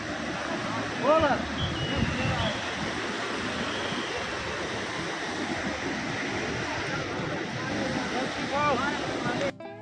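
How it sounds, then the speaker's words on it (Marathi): A loud, steady roar of the rushing Lidder River in the Himalayas near Pahalgam fills the whole stretch, with a couple of faint voice-like calls poking through near the start and end. "काही ठिकाणी या लिद्दर नदीच्या प्रवाहाचा इतका जोरदार आवाज येतो"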